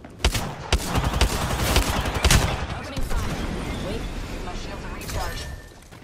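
Apex Legends gunfire in a firefight: sharp loud shots and bursts of rapid fire, close and heavy at first, then thinning into scattered reports and echoing rumble.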